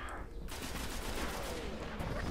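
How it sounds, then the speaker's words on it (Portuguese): A creature in the video game Destiny fires a rapid burst of gunshots, dense crackling shots over a noisy game soundscape. "eu tomei um tiro desse bicho e já morri"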